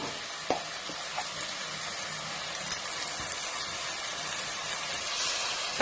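Ground ginger, garlic and onion paste sautéing in a hot pan for vegetable biryani, giving a steady, even sizzle with a few faint scrapes and clinks of a stirring spoon.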